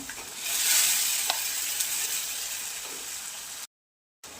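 Spiced onion masala sautéing in a pan with a little sugar and tomato, a steady close sizzle and frying hiss with stirring scrapes, then a brief silent gap near the end.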